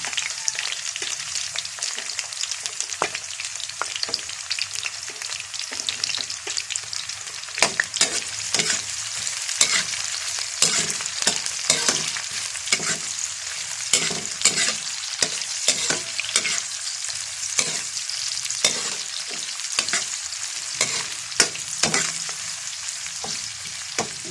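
Sliced onions frying for biryani in a pan, a steady close sizzle broken by frequent scraping stirs of a utensil against the pan, with no talking.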